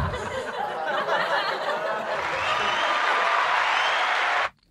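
A soundboard crowd effect plays a burst of laughter that swells into broad cheering and applause, fairly loud and steady before it cuts off abruptly.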